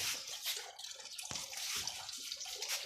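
Liquid poured into a bottle, a faint gurgling trickle with a brief knock partway through, heard alone at low volume.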